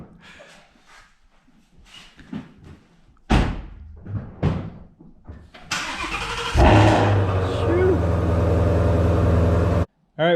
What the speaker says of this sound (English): get this Mustang out of the shop, would you?